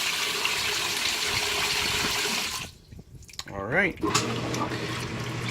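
A Speed Queen washing machine filling with water for a rinse cycle gives off a steady hiss of running water. It stops briefly and then resumes with a short tonal whine, up close, with a brief spoken word.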